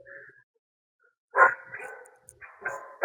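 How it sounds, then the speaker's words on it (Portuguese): A dog barks in short bursts near the microphone, a few sharp barks with brief yips between them after a quiet pause. "Ai, cachorro!"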